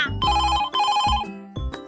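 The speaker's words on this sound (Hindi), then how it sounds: "ऑफिस से फोन क्या आ रहा है?" A phone rings loudly and nearby with a repeating electronic ringtone in short bursts, a call coming in from the office at a middle-class family home.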